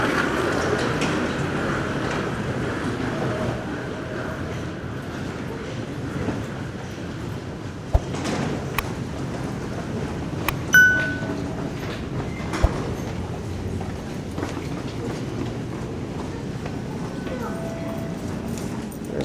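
A Toronto subway train at an early-morning station gives a low rumble with scattered metallic clanks and squeals, fairly distant and subdued, with a few sharp knocks along the way.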